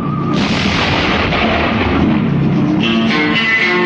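A cannon fires repeated shots, heavy booming blasts with long echoing tails running into each other, loud and dense throughout, no voices.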